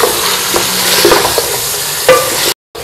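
Chicken fries with a spoonful each of garlic and ginger for biryani, a loud, close, steady sizzle with stirring scrapes, briefly cutting out near the end.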